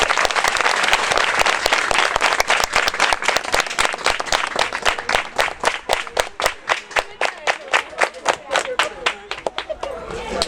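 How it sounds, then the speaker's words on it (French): Pupils at a school partnership ceremony give a long, loud ovation, dense applause filling the room at first and then thinning into distinct, rhythmic claps toward the end, with some crowd murmur underneath. "Chers élèves, faites une grande ovation pour cette coopération."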